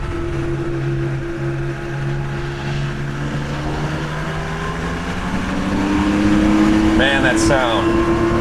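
An air-cooled Porsche 911 engine heard from inside while driving, a steady droning hum whose pitch rises gradually as the car accelerates, with brief talk near the end.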